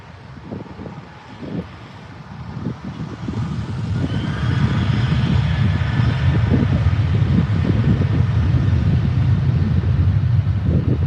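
Qantas Boeing 737 jet taking off at Adelaide Airport, a broad engine roar that swells from moderate to a loud, steady rumble over several seconds with wind buffeting the microphone, no talk.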